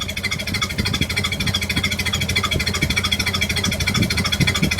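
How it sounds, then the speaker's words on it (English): A 1930 Ford Model A Tudor engine ticking over at a slow idle of about 350 rpm, a steady close, even chuffing pulse from near the tailpipe, with no talk over it. "Get it down to that famous Model A slow idle."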